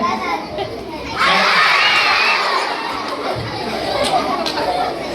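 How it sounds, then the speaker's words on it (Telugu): Children shouting and cheering at a puppet show at a prayer house in Jharasangam: a loud crowd roar that bursts in after a second and stays sustained, with overlapping excited young voices. "అట్లా అరుస్తున్నారు పిల్లలు"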